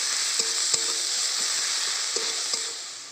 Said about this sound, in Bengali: কটা রসুন থেতো করে রেখেছি দিয়ে দেবো। কুচানো পেঁয়াজ, কাঁচা লঙ্কা কুচানো দিয়ে দেবো।